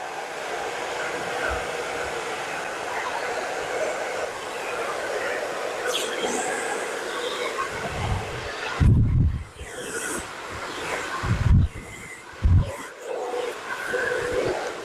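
A handheld hair dryer blows steadily while blow-drying very thick hair at home for a salon-style blowout, a constant close whooshing roar with bumps and thuds from handling near the end.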